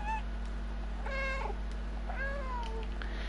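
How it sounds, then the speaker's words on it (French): A cat meows twice in the Stray video game, over a steady low game hum with no talk; the calls are clear and close, the second longer and gliding downward. "tu peux miauler."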